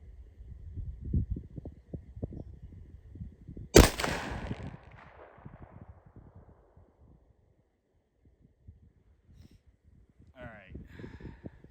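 A single loud rifle shot from a Savage 110 Trail Hunter rifle being sighted in outdoors, fired close by with a sharp crack and a fading echo. Someone talks before and after the shot.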